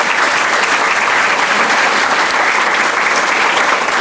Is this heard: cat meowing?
no